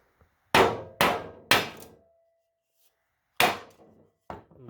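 Hammer blows striking the spindle shaft on a Toro Timecutter mower deck: three sharp, loud metallic strikes in quick succession, a pause, then two more, each ringing briefly, close up.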